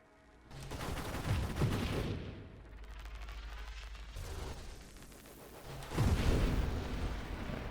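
Rapid bursts of weapon fire from the crab launcher in the space shooter Nova Drift, loud volleys at the start and again near the end with a quieter rumbling stretch between, under game music.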